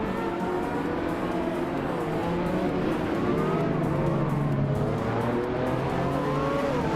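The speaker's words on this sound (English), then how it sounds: "is driving a Ferrari FXXK, a hypercar known for its blistering speed and aggressive aerodynamics" A Ferrari FXXK hypercar races in a video game, its engine note droning steadily with shifting harmonic whines and passing cars over a constant loud roar for the whole stretch.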